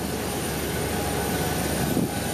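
Steady broadband engine roar of an airplane passing overhead, a continuous loud rumble with a slight swell near the end, with no talking.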